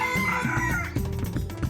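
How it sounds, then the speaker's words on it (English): Chickens cluck and a rooster crows on a street in Dumaguete, close and clear, the crowing sliding across a short stretch with no talking. "I had fun chasing a few of the chickens off the street"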